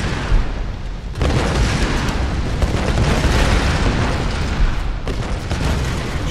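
A loud, sustained rumbling blast in the video game Tomb Raider, with dense, roaring noise filling the whole clip, continuing for several seconds like a drawn-out explosion.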